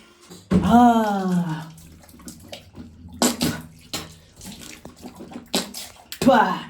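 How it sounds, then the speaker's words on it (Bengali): Tap water splashes steadily as someone rinses their face at an outdoor line beside a newly fitted 3000-litre water tank, with brief vocal sounds and gasps between the splashes. "মুখটা ধুয়ে নিই"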